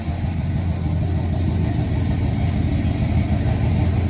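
A 1981 Oldsmobile Delta 88 engine idles steadily, a continuous low rumble close by with no pauses or speech throughout.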